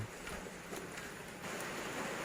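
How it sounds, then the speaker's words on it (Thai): Light rain falls in a rural setting, a soft, steady hiss of drops with a few slightly louder patters, faint and continuous throughout. "บรรยากาศก็ฝนตก รินรินฝนตกปล่อยยนะคะยังไม่แรงมาก"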